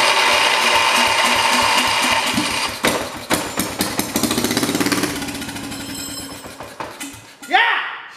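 A small engine on a 1968 motorcycle that had sat for five years sputters and revs roughly, with rapid uneven firing pulses that rise and stutter, then cut off near the end.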